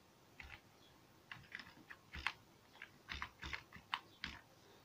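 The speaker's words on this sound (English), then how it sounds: "Then I type here localhost." A computer keyboard typed on in a quiet room: a short, uneven run of soft key clicks, close and faint, with small gaps between bursts.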